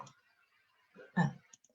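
A computer mouse gives a right-click while saving an image. A few soft, close clicks sound in a quiet room, with one firmer click standing out.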